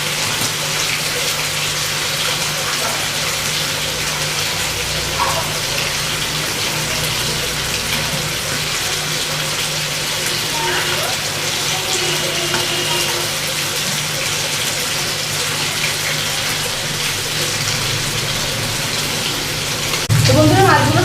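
Pomfret fish fry in hot oil in a pan, giving a loud, steady, rain-like sizzle that carries on without a break for about twenty seconds.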